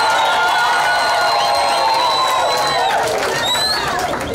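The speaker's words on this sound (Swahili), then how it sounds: "Wasalimie na upigie vigelegele sana." A crowd at a community gathering in Lac Vert ululates loudly in greeting, with high, wavering trills layered over cheering and voices.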